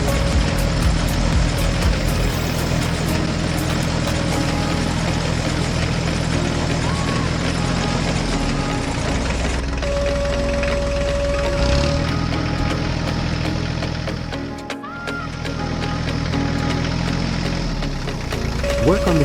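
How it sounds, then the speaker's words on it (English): A yellow tractor pulling a hay rake across a field of straw rows, its engine droning steadily and fairly loud, dipping briefly once before resuming its even mechanical hum. "The rake moves at a steady pace as the yellow tractor tidies up more rows of straw."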